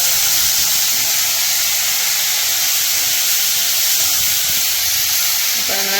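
Long beans from a home kitchen garden sizzle steadily in a hot pan, a constant bright hiss filling the whole stretch with a faint clatter near the end.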